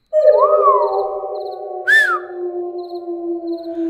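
A long, wavering whistle tone sustained over a low drone, with a sharp rising-and-falling whistle cutting in midway; eerie and hollow, late at night near a graveyard.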